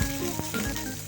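Grated coconut frying in a pan during preparation of an Onam feast, a steady soft sizzle and crackle with faint stirring scrapes, close and continuous at low level with no talk.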